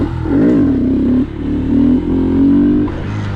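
A Honda Grom motorcycle engine revving up and down, close and loud, in rising and falling bursts as the rider holds a wheelie.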